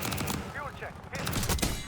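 Gunfire in the video game Black Ops 6 during a firefight: a brief burst of rapid shots crackles over in-game voices, dense and close.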